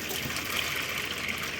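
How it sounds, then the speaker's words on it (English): Water pours steadily over dry beans in a bowl, a continuous close gush with a bright splashing hiss lasting the whole moment, no voices. "I'm going to cover these with water"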